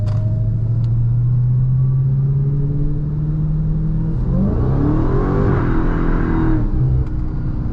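A Dodge Charger Hellcat Widebody in sport mode, its engine droning loud and steady, then revving up in a rising surge with tire-spin roar before settling, no talk.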